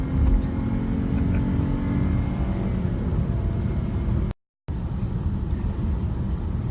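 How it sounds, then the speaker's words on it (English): A 2017 Dodge Charger SXT with a V6 engine drones steadily from inside the cabin while driving, a constant loud rumble with road noise, briefly cut out near the end. "I really have to say I wish there was more torque on this V6 engine"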